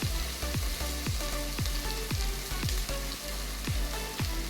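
Sliced onions sauté in a pot for a one-pot chicken biryani, giving a steady close sizzle broken by regular low knocks of stirring about every half second, with no voices.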